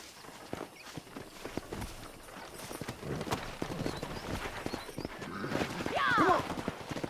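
Wild horses gallop through the Red Dead Redemption game, a rapid run of hoof clip-clops that builds and grows louder, ending with a sharp whinny as speech comes in over the top.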